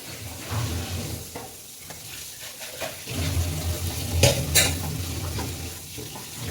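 Chicken parts masala with Kashmiri chilli powder sautéing in a pan, a close, continuous sizzle broken by repeated spoon stirs and scraping, with brief metallic clinks midway.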